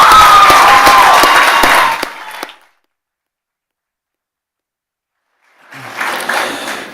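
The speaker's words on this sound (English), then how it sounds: "We'll clap them off again because they were amazing." An audience claps and cheers at a school senior prizegiving, a loud dense burst of applause that cuts off to silence and then starts up again a few seconds later.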